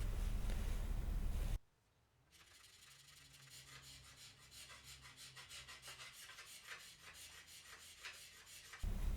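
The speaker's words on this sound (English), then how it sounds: "Sometimes I'll do some scraping with the bow still braced as a time saver." A scraper rasping along an Osage orange selfbow held braced, a steady series of rhythmic close scraping strokes after a short loud opening burst.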